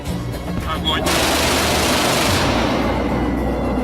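Su-27 fighter jet cannon fire: a loud, sustained roaring burst that fills the clip, sharp onset after a brief lead-in, then continuous heavy blasting noise throughout.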